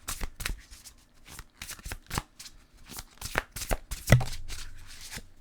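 Tarot cards are shuffled by hand in a rapid series of crisp riffling bursts and slaps, close and alone, with short pauses between them.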